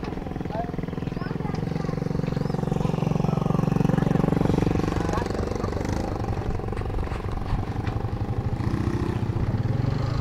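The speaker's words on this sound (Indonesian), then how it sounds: "Di sana pelabuhan ini ya, kapal-kapal motor yang buat nyebrang ke Adonara" Motor boats at Larantuka harbor in Flores, the ferries used for crossing to Adonara, putter with a steady chugging engine drone at moderate distance, with people talking over it.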